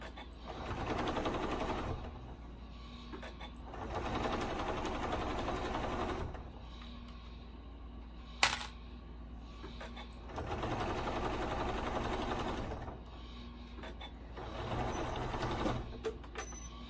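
A sewing machine top stitches a quilted car seat poncho around the hood, running in steady whirring bursts of about two seconds with quiet gaps between, plus one sharp click midway.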